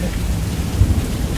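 Steady city rain at night, a continuous low, dense rumble with soft patter and a slightly louder swell near the end, heard alone without voices.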